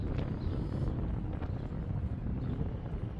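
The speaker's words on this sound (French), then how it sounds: "et d'un coup tu arrives au bord de l'eau, il y a le vent." Wind buffets a microphone at the water's edge in Martigues, a steady low rumbling gust that runs throughout with no pause.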